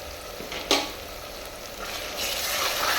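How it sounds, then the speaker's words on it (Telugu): Onions and tomatoes fry in a pan with spices, a steady soft sizzle running throughout, with one brief stir or clatter near the start and the hiss swelling slightly toward the end. "ఈ ఆనియన్స్ టమాటాలు మంచిగా ఫ్రై అయిపోయినాయండి"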